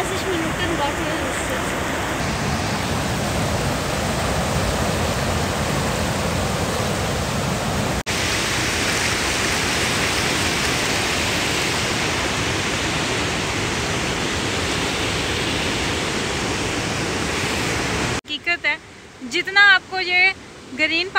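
A waterfall at a green lake roars as a steady, dense rush of water, loud and close, filling the scene for long stretches before it gives way abruptly to brief talking near the end.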